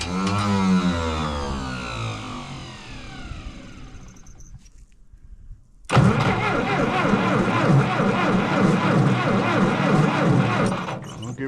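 A small engine in a snowy woodcutting setting is pulled over on choke: a sputtering, rising run that fades and dies, a brief near-silence, then it catches again and runs loud and rough to the end.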